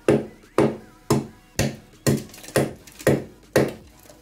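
Chisel blows break out wall material: eight sharp, evenly spaced impacts, about two per second, each loud and close with a short crumbling decay, and no talking.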